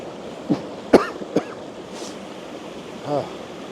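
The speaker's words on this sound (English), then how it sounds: "I don't want to be coughing in you guys' ear" Several sharp coughs come close together near the mic, followed by a softer throat clearing over a low background hiss.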